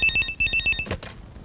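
Telephone ringing in a Telugu comedy scene: an electronic ringtone repeats in short bursts, loud and close, then cuts off as shuffling and handling noise follow.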